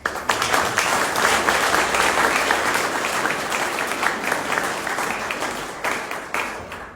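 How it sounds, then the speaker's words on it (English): Audience at an evening public forum gives a big round of applause, loud and continuous clapping from a crowd that holds steady before gradually thinning out near the end. "Ladies and gentlemen, a big round of applause."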